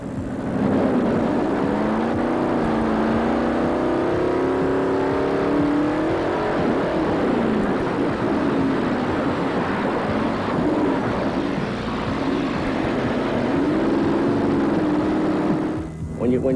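Bigfoot monster truck engine roaring steadily and loud through a jump at an Indianapolis performance, heard from inside the cab, a continuous heavy drone with shifting pitch that dips briefly near the end.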